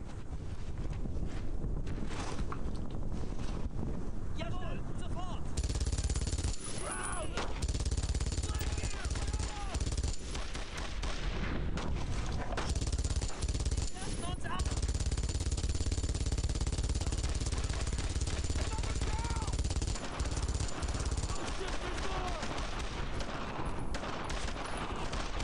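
Dense bursts of rifle and machine-gun fire in the World War II shooter Brothers in Arms: Road to Hill 30, loud and continuous with rapid volleys and heavy thuds, under occasional talking.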